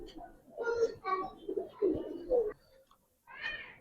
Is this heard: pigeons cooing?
yes